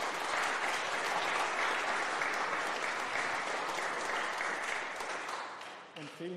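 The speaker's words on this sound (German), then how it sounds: "Applaus." A church congregation at a parish consecration-day service applauds in a steady, dense wash of clapping that fills the room, then thins and fades near the end, where a voice begins.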